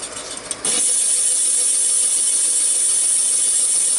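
A boring machine cutting an engine cylinder for sleeving, starting with brief metallic scrapes and then settling into a loud, steady high-pitched whine of cutting metal that holds constant to the end.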